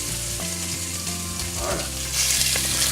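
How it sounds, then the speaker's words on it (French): Bite-sized beef pieces browning in oil in a pot over medium heat, a steady close sizzle that swells louder toward the end. "on va faire revenir la viande que nous avons coupée en morceaux de la taille d'une belle bouchée"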